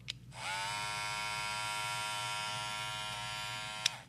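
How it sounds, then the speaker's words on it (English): A new Andis GTX trimmer fitted with an M Force blade hums continuously at close range, a steady electric motor buzz for several seconds, bracketed by faint clicks as it switches on and off. "This is what the new version sounds like."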